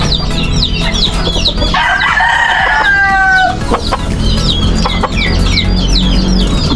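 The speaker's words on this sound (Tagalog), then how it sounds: "Hindi ko po alam kung anong mga lahi nitong manok na ito" Farmyard chickens cluck over and over alongside a rooster's crow, fairly close and steady, with dense background activity throughout.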